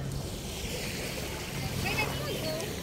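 Steady roar of surf washing onto a crowded beach in Palawan, blended with wind noise, with faint voices somewhere in the background.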